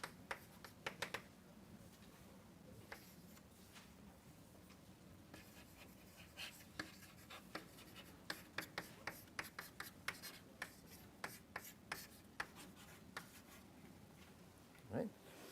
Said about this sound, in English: let me write it like this